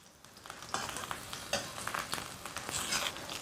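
Eggplant pan-frying over high heat in a little oil, quiet crackling sizzle with small spatters and stirring scrapes, faint and close, no speech.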